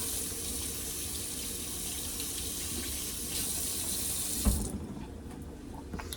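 Bell peppers are rinsed under a running kitchen tap, a steady splashing rush of water that stops near the end, followed by a few small clunks as they are set down.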